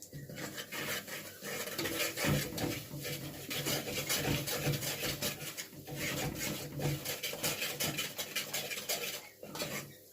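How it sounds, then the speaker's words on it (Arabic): A spoon scrapes and stirs flour being toasted in a pot for béchamel, a steady, close, rasping scrape with soft metallic clinks that continues without pause. "لازم ان انا احمر الدقيق سنه"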